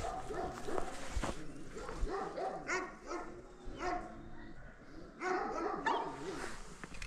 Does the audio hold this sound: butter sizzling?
no